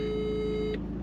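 A phone ringback tone sounds while calling a customer during an Uber Eats delivery, a steady electronic tone that holds for most of the second and then cuts off abruptly.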